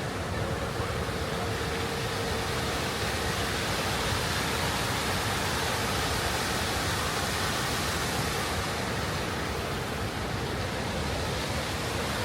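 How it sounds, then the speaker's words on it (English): Lake fountains in KLCC Park, Kuala Lumpur, shooting high-pressure jets of water, with a steady, dense roar of spray falling back onto the water that holds close and loud throughout without a break. "Oh look, fountains going on the lake."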